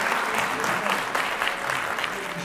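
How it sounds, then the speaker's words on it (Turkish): Strong, dense applause from the audience at a Turkish album gala concert, greeting the musicians and their instruments, loud and continuous without a break across the short span. "Kuvvetli alkışlar sevgili arkadaşlarımız ve sazlarımız için gelsin"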